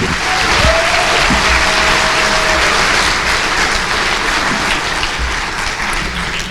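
Loud, sustained applause from a large crowd at a cadet commencement ceremony, continuous dense clapping at an even level for several seconds, with a faint brief tone early on.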